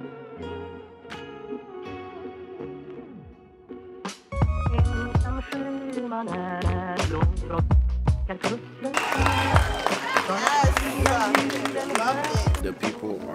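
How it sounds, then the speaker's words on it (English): An audience claps in a movie theater at the end of a Black Panther screening. The applause swells over the last few seconds, mixed into loud film music and soundtrack. "The people are clapping"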